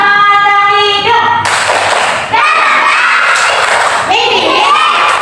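A classroom of children chant and shout together over clapping during a spirited group clap, loud and close, with voices rising in waves throughout.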